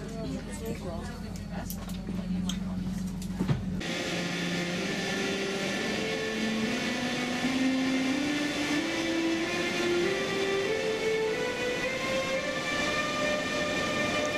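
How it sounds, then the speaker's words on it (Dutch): Jubilee ÖBB Railjet train arriving at a platform in Austria, a loud steady rumble with the motor's rising stepped tone climbing in pitch, preceded by a brief burst of other noise, and a voice heard faintly at times. "Vanuit de dubbeldekker zagen we de jubileum Railjet binnenkomen"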